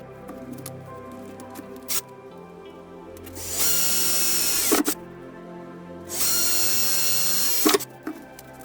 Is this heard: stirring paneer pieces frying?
no